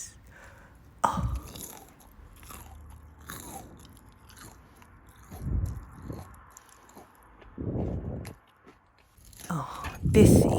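Crisp, loud bites and crunchy chewing of a fried aloo tikki potato patty, several separate crunches spread across the moment, close to the mic with no talking.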